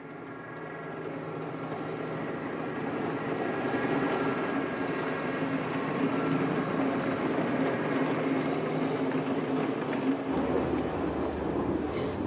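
A train riding through the mountains on a scenic route, a continuous rumbling roll with a low steady drone, loud and sustained throughout, with a brief shift near the end and no talk.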